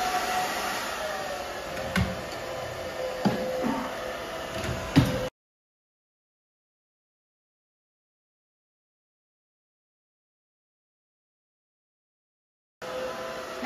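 A hair dryer blow-drying hair with a round brush while styling a fine, layered haircut: a steady, close whoosh with a few knocks, then a long stretch of complete silence before the airflow resumes.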